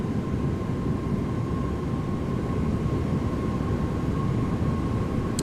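PMDG Boeing 737-800 in Microsoft Flight Simulator with the FTSIM soundpack, sitting on the runway in gusty crosswind: a steady engine roar with a faint whine holds constant throughout, and no voices.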